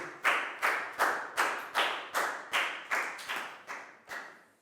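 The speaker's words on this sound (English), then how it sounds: "Big round of applause for Chu." Rhythmic claps in a primary English class, about ten sharp hand claps at a steady beat, close and fairly loud with no talking over them.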